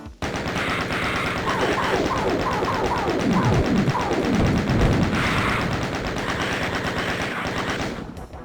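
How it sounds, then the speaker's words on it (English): Rapid chain gun fire from the Doom video game, dense continuous bursts of automatic shots with loud percussive thuds throughout, layered with game sound effects and no talking. "You want to hit him with a chain gun."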